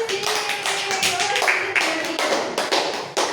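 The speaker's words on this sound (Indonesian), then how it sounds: "tepuk tangan gendis" A classroom of students clapping for a classmate, a quick run of sharp, uneven hand claps close by with some chatter and background noise mixed in.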